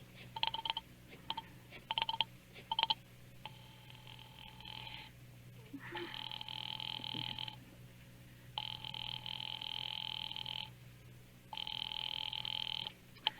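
A telephone rings in a radio drama in repeated long electronic bursts separated by short pauses, steady and moderately loud, with a few quick clicks at the start, as a call is put through to the police.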